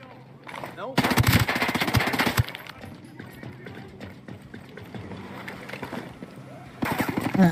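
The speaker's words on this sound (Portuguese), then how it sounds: "Atirar de MP7 é tão gostosinho" MP7 submachine gun fire in a video game: two loud rapid automatic bursts, one early and a longer one near the end, with game noise and quieter stretches between.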